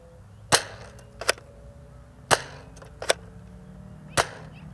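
A Nerf N-Strike Elite Dual-Strike blaster fires Mega darts, giving five sharp, close pops spaced unevenly over a few seconds with quiet handling in between.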